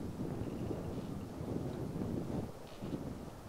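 Steady wind gusts on an outdoor golf course during the final round of a tournament, a continuous low rushing and buffeting across the microphone with no talk.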